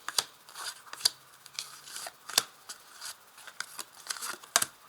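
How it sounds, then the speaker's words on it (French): Oracle cards are laid out on a table, giving soft close slaps, slides and card flicks in an irregular patter, with no talking. "Alors, je place les cartes."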